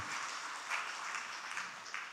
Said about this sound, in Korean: 우리 장로님들, 권사님들을 향해서 다 박수 쳐주시고